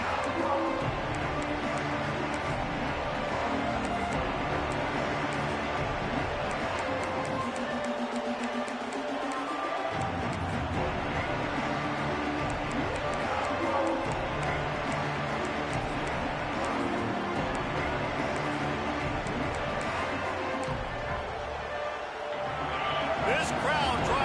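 Stadium crowd at an Ole Miss college football game roars continuously through a kickoff and the opening play, a dense, loud wash of cheering with a commentator talking over it.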